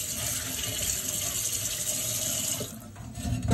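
Tap water running over mung bean sprouts in a basket as they are rinsed, a steady close splashing and hiss that drops away near the end, with no speech.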